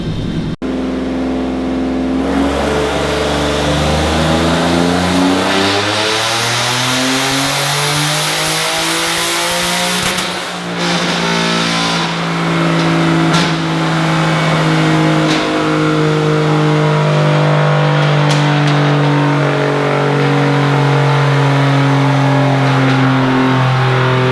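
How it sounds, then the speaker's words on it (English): A 3.7L V6 car engine with a turbo kit, running E85 at 14 psi boost, revs up steadily under load on a dyno, pitch climbing for several seconds before dropping and holding a loud, even drone, close and continuous. "we got the car on the dyno. We're gonna do a run on E85"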